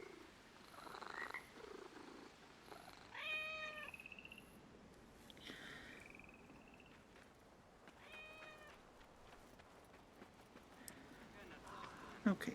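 A cat in Assassin's Creed Mirage is petted, giving soft purring with a few short meows, faint under quiet game ambience, with a voice talking at moments.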